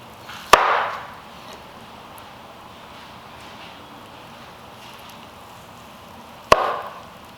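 A knife cuts through smoked wagyu brisket from an offset smoker, giving two crisp, sharp crunches several seconds apart, with quiet room noise between them.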